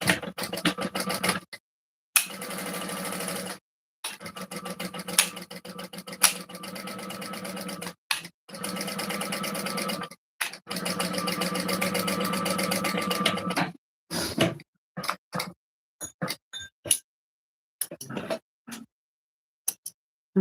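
A sewing machine stitches across a shoulder bag panel and then top stitches the back, running in several loud, steady bursts of whirring needle rhythm separated by short pauses, ending in brief stop-start stitches.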